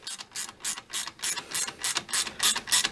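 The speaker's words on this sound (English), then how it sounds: "14 inch, yeah, 14 inch, whoa, 14mm wrench, spanner, whatever you want to call it" Repeated ratcheting clicks of a 14mm ratchet wrench fitting a TEC 2-into-2 slip-on exhaust to a Triumph Street Cup, about a dozen even, close strokes with a steady back-and-forth rhythm and no talking.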